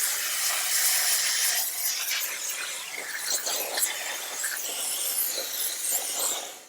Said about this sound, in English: So if you need to do any blasting cleaning of steam,